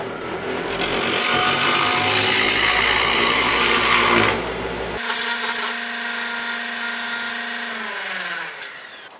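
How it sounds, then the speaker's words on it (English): Square cutter on a lathe flattening a bowl made from drone propellers, a loud close scraping and whirring cut that stops abruptly midway, leaving the lathe spinning with a steady hum that winds down slowly. "I'll use a square cutter on this"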